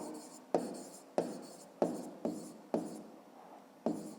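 A pen writes out a math answer by hand in a series of short, close scratching strokes, about seven distinct bursts each starting sharply and fading.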